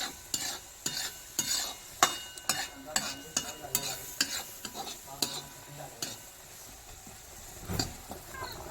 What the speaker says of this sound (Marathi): कांदा आता लाल तांबू सोसपर्यंत भाजून घ्यायचा आहे